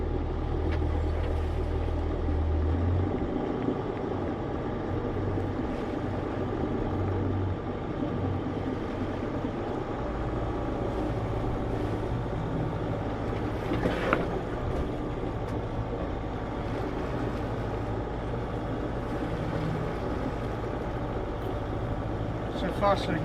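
A boat engine drones steadily on a trip from Pulau Rota toward Jepara Beach, a loud continuous rumble with a throbbing low end that holds through the whole stretch, close by and unbroken.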